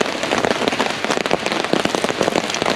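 Heavy rain drums steadily on a tarp shelter during a rainstorm on a Fourth of July hike, a dense close patter of drops with no voices.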